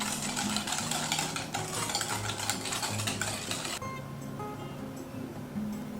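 Cake batter for a plum cake being mixed with white sugar and gelatin sugar, heard as a continuous mechanical whirring rattle that thins out and softens partway through.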